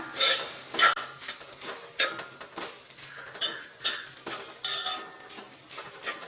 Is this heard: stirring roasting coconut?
yes